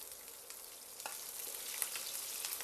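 Green chillies frying in hot oil for a cauliflower tomato curry, a continuous hissing sizzle at moderate level with a few faint spatula touches, steady from start to finish and with no speech.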